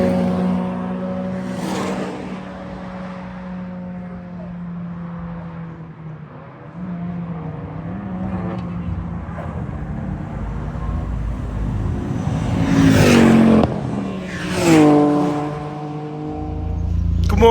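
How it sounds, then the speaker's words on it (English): A 2005 Audi TT 1.8T converted to a DQ500 DSG automatic, tuned to about 500 hp, drives steadily with a sustained engine drone and shifting pitch, rising in two louder revving bursts near the end. "So I'm going to go and test drive it and see if the wheels fall off."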